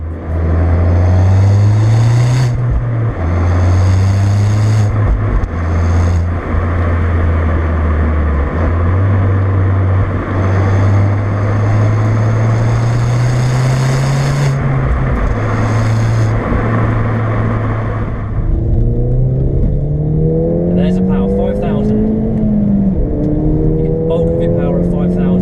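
A Ford Fiesta ST accelerates hard through the gears with its turbo boost kicking in, the engine note loud and close, climbing in pitch on each gear, dropping at shifts, then rising again.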